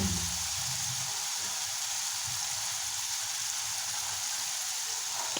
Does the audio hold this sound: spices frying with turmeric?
yes